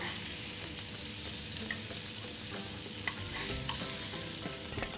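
Endives are turned over while they fry in a pan. A bright, steady sizzle sounds close up, with soft scraping and tossing movements throughout and no talking.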